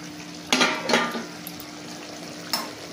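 A metal lid clanks as it is lifted off a pot of bottle gourd simmering on the stove, two close clatters followed by a soft bubbling hiss and one more light knock.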